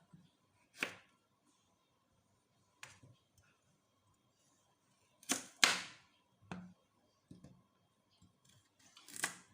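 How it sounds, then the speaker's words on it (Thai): A knife chops carrots on a cutting board, sharp isolated thunks in irregular bursts with quiet gaps between, close and clear. "หั่นแครอทกันนะคะเพื่อน"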